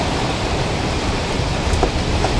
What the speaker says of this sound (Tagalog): Sobra pong lakas po talaga ng bagyo.